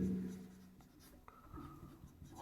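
Pen or marker writing on a board during a Hindi-language accounting lecture, a steady scratching stroke rising out of the room hum, fairly close and quiet, with no talk over it.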